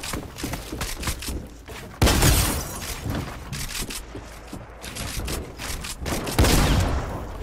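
Rapid gunfire in a multiplayer shooter video game, dense overlapping shots and heavy booming blasts in quick succession, loud and continuous with a few sharper impacts standing out.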